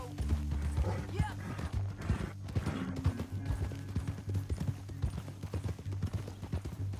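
Rhythmic horse hooves clip-clop steadily in the video game Red Dead Redemption 2, under a low droning hum, with faint mechanical clicks and creaks in the background.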